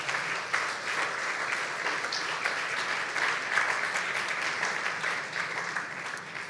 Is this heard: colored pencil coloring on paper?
no